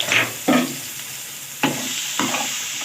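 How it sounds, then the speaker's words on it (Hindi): Garlic and black peppercorns sizzle and fry in a pan, with short bursts of scraping as a spoon stirs them at close range, no voices present. "ये गोल मिर्च, इसको थोड़ा सा फ्राई करेंगे"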